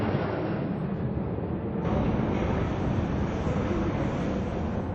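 Low airplane passing over Shea Stadium in New York, a steady broadband engine roar that stays loud and close for the whole stretch, swelling slightly partway through with wind-like rumble and no clear talk.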